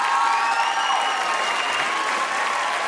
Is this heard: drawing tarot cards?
no